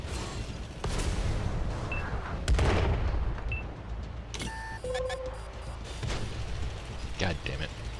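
World of Tanks gameplay with dull booming artillery blasts and shell impacts, mixed with game beeps and chimes, heard under a player's talking.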